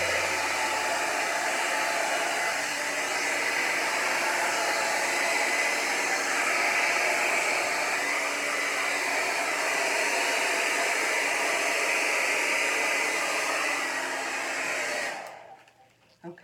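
A hair dryer blows steadily and loudly on colored resin pigment for about fifteen seconds, then cuts off abruptly.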